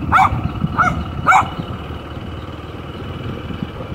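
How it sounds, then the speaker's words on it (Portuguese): A dog barks three times in quick succession near a beach access road in Guaraú, Peruíbe, with steady engine-like rumble and outdoor noise continuing after the barks. "Aí onde vocês moram tem cachorro que corre atrás assim também?"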